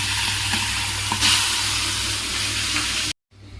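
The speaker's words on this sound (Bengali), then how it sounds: "মাছটা ভেজে নিই।" Tilapia fish frying in hot oil in a pan, a steady loud sizzle with stirring scrapes that runs continuously before cutting off abruptly near the end.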